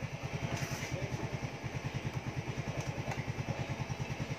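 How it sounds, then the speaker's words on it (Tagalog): A Yamaha Mio Soul i 125 scooter engine idles steadily nearby, giving a rapid, even low putter with no talking over it. "So, umaandar na yung motor natin, no?"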